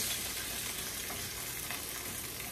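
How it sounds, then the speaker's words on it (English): Food sizzles steadily in a hot pan that holds some water, a dense, even crackle and hiss running throughout at a moderate level with no voices. "Just be careful when you're adding stuff to a hot pan, especially if it has water in it."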